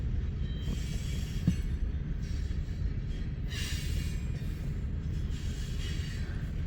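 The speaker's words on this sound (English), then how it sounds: "This is a new coal train." A new coal train of TILX leasing units rolls past in Fremont, Nebraska on a slow order, a steady close rumble of railcars with wheel squeal and brief higher screeches throughout.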